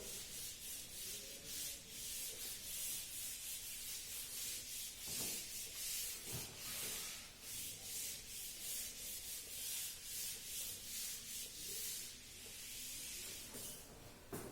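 A board is erased during a graph theory lecture with steady rubbing strokes, a soft scratchy hiss that keeps going in quick repeated passes, fairly faint and close with no talk.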